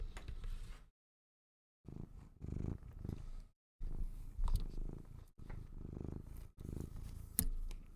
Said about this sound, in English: Oh, he's purring.